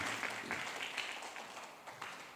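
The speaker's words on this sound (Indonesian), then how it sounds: "Tepuk tangan untuk semuanya." Congregation applause during a Catholic Mass, a soft, steady wash of clapping from a crowd in a church, fairly distant and low in level throughout.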